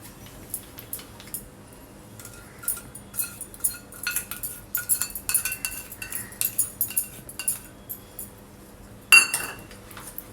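Spoon stirring lemon juice and sugar in a bowl: irregular light clinks and taps against the dish, quiet and close, with a sharper knock near the end and no talking.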